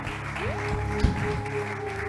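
A church congregation applauds for Jesus, with dense, steady clapping heard under sustained tonal sound and a brief louder burst midway.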